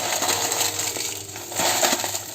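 Eggshells crushed by hand make dense, continuous crackling and crunching up close, with brief brittle snaps and no talk.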